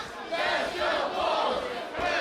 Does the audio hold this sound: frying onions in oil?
no